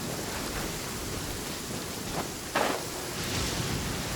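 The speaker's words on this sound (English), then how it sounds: "Man, this thunder is loud." Steady rain pours in a desert setting in the game Genshin Impact, with a couple of faint thunder cracks breaking through partway along. The rain is soft and continuous, and no voices are heard.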